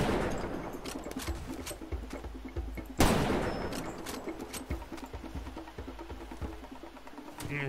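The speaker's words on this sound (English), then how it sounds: "Okay, I'm still getting shot at from somewhere." Enemy gunfire in Far Cry 2 aimed at the player, a rapid series of sharp shots with one louder blast midway and dense crackling fire throughout.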